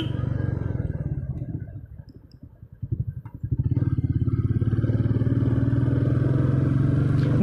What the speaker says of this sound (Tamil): ஸோ தேர்ட் கியரில் ஏற்றிட்டுருக்கேன், பட்டு செகண்ட் கியரில் ஏற்றுறது பெட்ரு.